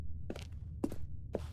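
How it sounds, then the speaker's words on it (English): Three soft footsteps on carpet in The Stanley Parable: Ultra Deluxe video game, evenly spaced muffled thuds over a low steady hum, with no talking. "Why does it sound like I'm walking on carpet?"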